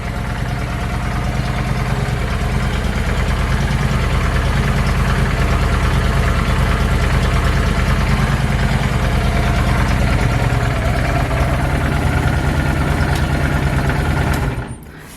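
A 2007 Honda VT750 Shadow motorcycle engine idles steadily and loudly up close, a low, even throb with a fast pulsing rhythm that runs unbroken before cutting off right at the end.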